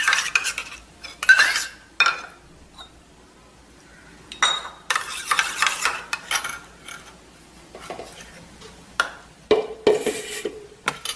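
A spoon stirs coffee into warm water in a cup, giving close, irregular clinks and scrapes against the container in short clusters with quiet pauses between them.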